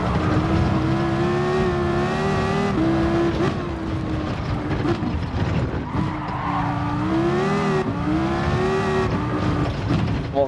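A Dodge SRT Tomahawk in a racing video game lapping the Nordschleife, its engine note steady and loud with rising and falling pitch through gear changes, plus tyre squeal, under continuous music-like layering.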